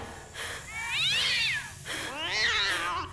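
A cat meows twice, long rising and falling wails heard close and clear with no talking, in the video game Ju-on: The Grudge Haunted House Simulator.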